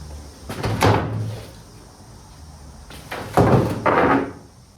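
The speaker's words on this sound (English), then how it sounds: "I'm gonna go ahead and grab that Camry door and we'll bring it in here" A Toyota Camry car door handled and set down against a box, giving two bursts of heavy knocks and scraping thuds with quiet pauses between them.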